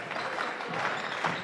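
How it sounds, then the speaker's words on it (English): A loud student section cheers and claps at a Valley City vs Wahpeton varsity boys basketball game, a dense, sustained roar of crowd noise with no single voice standing out. "Wahpeton crowd is pretty loud. That's the student crowd."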